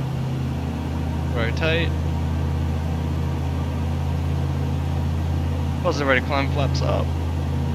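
A Cessna engine holds a steady, droning rumble at takeoff power in Microsoft Flight Simulator, constant under a voice calling out the climb.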